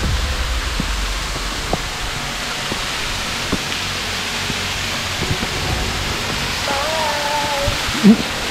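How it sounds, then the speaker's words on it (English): Steady broadband rush of the waterfall at Colditz Cove, a continuous outdoor roar heard from nearby with a few faint knocks and a brief voice near the end. "Thank you, waterfall."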